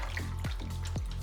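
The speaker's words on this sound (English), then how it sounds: "the boiling water that you use to melt it all with, just gently pour it over" Boiling water gently poured over wax in a sink, a continuous hollow watery rush with a few gurgling drips.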